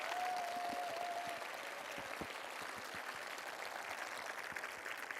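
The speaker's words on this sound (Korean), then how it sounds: "여러분 하늘까지 들릴 수 있도록 여러분 박수 한번 부탁드리겠습니다." Audience applause at a Korean talk concert lecture, a dense, steady wash of clapping heard at a distance and fairly faint, continuing throughout.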